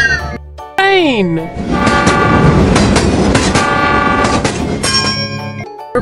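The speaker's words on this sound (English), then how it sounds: "Train" A train rumbles past with a loud, sustained horn blast and rhythmic rail clatter, preceded by a brief swooping vocal sound.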